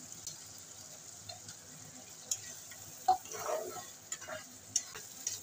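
Masala with yogurt is stirred and fried in a pan for a rohu fish curry with whole pointed gourd, a soft low sizzle broken by scraping spoon strokes and a few clinks, close and quiet, with no talk.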